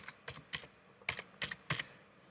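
Several quick keystrokes on a computer keyboard, soft clicks in small irregular bursts, close and quiet with no talking.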